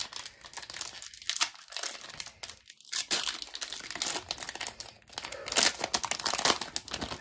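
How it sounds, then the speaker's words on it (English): A Panini Prospects basketball card fat pack being torn open, steady close crinkling and ripping of the foil wrapper for several seconds. "first pack, we're gonna get into the fat pack"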